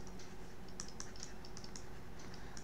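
Python code being typed on a computer keyboard, with quiet, irregular keystrokes clicking steadily over low background hum.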